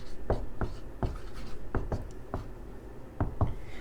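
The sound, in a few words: writing the heading on a board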